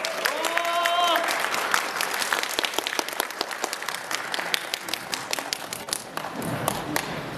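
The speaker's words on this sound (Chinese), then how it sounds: "再次掌声感谢" An audience applauds at the end of a performance by Huang Xiaoyun, a dense wash of clapping with crisp individual claps standing out, and a voice speaks briefly at the start as the applause carries on.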